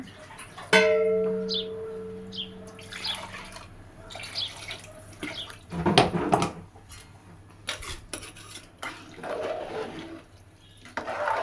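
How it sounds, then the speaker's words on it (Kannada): Water is poured into an open pan for pulao, with splashing, trickling bursts and occasional metallic clinks of utensils, close and moderately loud, broken by brief pauses. "ನೀರು ಎಷ್ಟು ಬೇಕೋ ಅಷ್ಟು ಹಾಕ್ಕೊತಾ ಇದ್ದೀನಿ"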